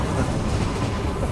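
An old passenger train in Myanmar rattles along the tracks, a loud, continuous rumbling clatter of wheels and carriages heard from inside, with no talking.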